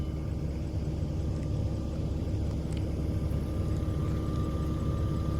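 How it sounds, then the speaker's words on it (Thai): Bulldozer working far off on a steep forest slope during land clearing, a low continuous engine rumble, faint and steady throughout with no talk. "รถไถทำงานอยู่ฝั่งนู้นอยู่ครับ"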